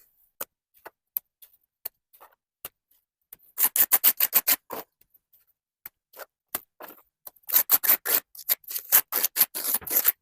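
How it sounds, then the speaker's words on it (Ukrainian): Wet sand-clay mortar is thrown with a trowel onto a window slope. Isolated sharp clicks give way to two clusters of rapid, gritty slaps and scrapes, close and alone. "Беремо, змочуємо і починаємо накидувати розчин."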